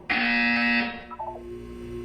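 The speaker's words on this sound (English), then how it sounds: "When you hear the buzzer, look up at the ceiling." A loud, steady electronic buzzer sounds for under a second and cuts off abruptly, followed by a faint low hum, in Portal 2.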